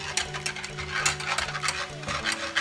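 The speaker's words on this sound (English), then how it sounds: "you need to whisk and add the milk at the same time, which is what I'm doing" Eggs being whisked in a pan as milk is poured in for a custard-like cream, a steady quick rhythmic scraping and clicking of the whisk, close and moderately loud, with a low steady hum underneath.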